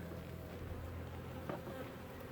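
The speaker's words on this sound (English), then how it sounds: "obvious signs of a swarm when you hear this massive buzzing" Massive, steady buzzing of a killer bee swarm around a top bar hive, a dense continuous drone holding at an even level throughout, with no talking.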